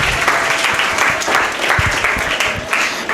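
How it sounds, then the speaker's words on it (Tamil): A debate-hall audience claps loudly and steadily for the Tamil debate speaker Kathir, with dense applause filling the room throughout and no voices rising above it. "ரொம்ப அருமையாக பேசின கதிருக்கு மீண்டும் ஒரு முறை பாராட்டு"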